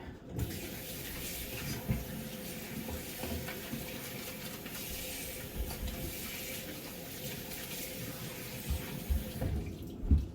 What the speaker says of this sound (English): And we're going to wash our hand.